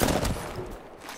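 Gunfire in the Apex Legends battle royale game, a quick burst of close, loud shots at the start that tails off into fainter reports and echo.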